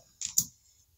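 Two quick, faint keystrokes on a computer keyboard, close together, then quiet.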